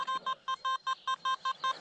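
A metal detector sweeping a playground gives a run of about ten short, evenly spaced electronic beeps, loud and close, with nothing else heard.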